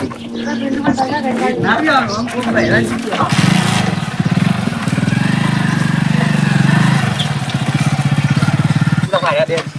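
Two motorcycles start up and settle into a loud, steady running rumble close by, with people talking over the engine noise at the start.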